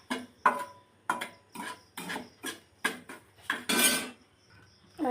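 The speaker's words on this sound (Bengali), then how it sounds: "এই যে ঘি দিয়ে ভালো করে ভেজে নিয়েছি" A spoon scraping and knocking in a pan as semolina fries in ghee, a series of rhythmic close metallic scrapes and taps with short pauses between them.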